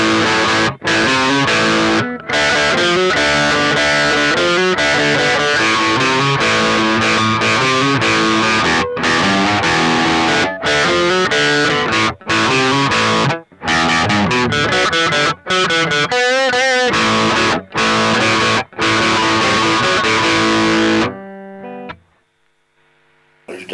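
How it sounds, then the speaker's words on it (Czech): Electric guitar through an overdrive effect plays sustained, gritty chords and riffs for about twenty seconds, loud and close, with short pauses between phrases before the playing stops and only a faint hum remains. "Je to takový jako overdrive."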